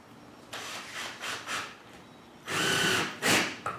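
A cordless drill whirs in several short bursts, driving decking screws into wood for a planter box, with brief pauses between runs and a longer, louder burst near the end.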